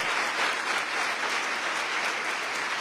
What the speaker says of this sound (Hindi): जोरदार तालियां बजाएंगे हम